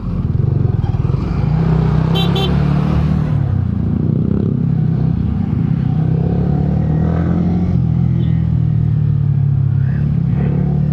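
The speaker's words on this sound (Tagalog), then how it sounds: "so medyo traffic traffic dito" Busy road traffic of motorcycles and cars rumbles continuously and close, with engines droning and revving as vehicles pass, and a brief high rattle early on.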